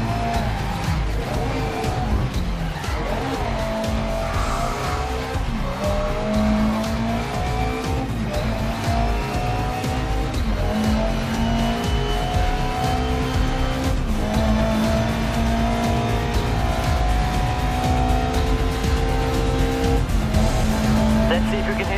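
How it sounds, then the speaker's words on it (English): Race car engines roar steadily in the GRID Legends racing game, with rising and falling revs and tire squeal through a handbrake slide, loud and continuous with a voice over the top. "I'd like to see you control the slide."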